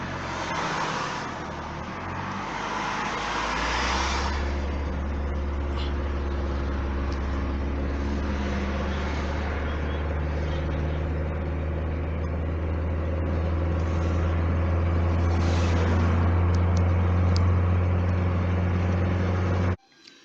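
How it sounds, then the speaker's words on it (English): A 1.4 automatic VW Polo with a gearbox fault accelerates, its engine droning steadily and climbing to a high, sustained rev from inside the car, loud and continuous before cutting off abruptly at the end. "I'll accelerate, but you'll see the RPM will be much higher, and yet the speedometer isn't gone far"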